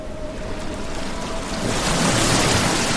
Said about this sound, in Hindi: तभी अचानक तेज बारिश शुरू हो गई।